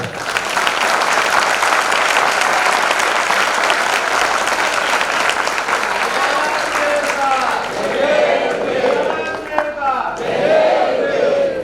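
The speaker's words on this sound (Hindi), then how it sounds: "आपकी करतल ध्वनि से, तालियों की गड़गड़ाहट से हमें ऐसा लग रहा है कि आपको यह प्रवचन बहुत अच्छा लगा" Loud, sustained applause from a large audience follows a religious sermon at a Jain Panch Kalyanak ceremony, with thunderous clapping filling the space before it thins out and a voice begins to speak over the last few seconds.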